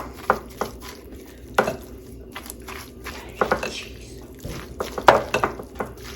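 Spinach and other appetizer ingredients are mixed by hand in a bowl, with soft squishing and scattered clacks against the bowl in irregular bursts, close by.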